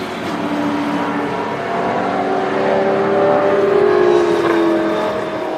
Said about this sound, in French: je vous ai retrouvé un petit son de moteur de V8 Supercars, mais de l'époque, un vrai bon moteur de Ford Falcon